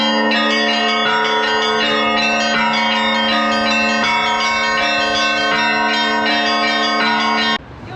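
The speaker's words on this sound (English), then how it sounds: "I didn't think the bells were actually going to go off because there's a gentleman over there fixing them" Church bells ring loudly and continuously in Kazan, a dense layered peal of sustained tones filling the whole stretch before cutting off abruptly near the end.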